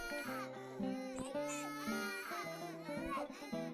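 Baby crying in the video game Death of the Reprobate, a steady run of wailing, hungry-sounding cries with rising and falling pitch, close and fairly loud against a background of game music.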